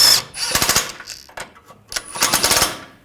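Impact wrench tightening a tie rod nut on a 2009-2017 Volkswagen Tiguan steering rack, heard as loud rapid hammering bursts in three separate runs with short pauses between them.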